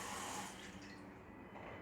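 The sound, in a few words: tap water filling a bowl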